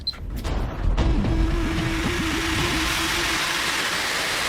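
A jet engine spins up from a start request, with a few clicks and a thump before a rising whine and a swelling rumble that settles into a steady roar.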